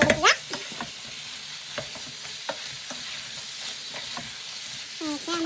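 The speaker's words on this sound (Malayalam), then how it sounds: "ഇളക്കി കൊടുക്കുക." Chicken chilli masala frying in a pan while being stirred: a steady sizzle runs throughout, broken by repeated clicks and scrapes of the spoon against the pan.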